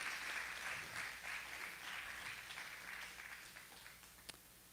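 A church congregation applauds during a worship service, a dense sustained clapping that is loud at first and gradually thins and fades, ending with a single sharp clap.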